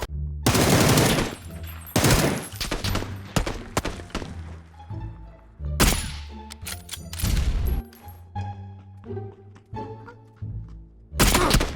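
Bursts of automatic gunfire and single shots from PUBG Battlegrounds, loud and close, coming in clustered volleys with short gaps and thuds between them, no talking.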